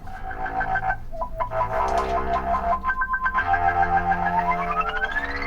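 An oscilloscope music track plays loud and close: buzzy, distorted electronic tones with stepped pitch changes and a pulsing rhythm, ending in a rising glide, with no voices.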